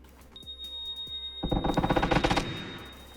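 Automatic gunfire in the PUBG video game: a quick rapid burst of a dozen or so sharp shots, close and loud, following a few faint clicks and a high electronic tone.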